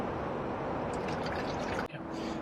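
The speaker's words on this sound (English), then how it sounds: "then you pour in 3 bottles of water" Water pours steadily into a Rimor Horus 38 toilet cassette tank, a dense continuous gush that briefly breaks off, then resumes more quietly with a faint tone.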